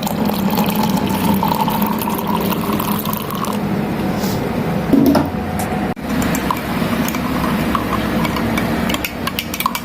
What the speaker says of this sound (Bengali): এখন আমি এটার ভিতরে গরম পানি দিয়ে দিচ্ছি।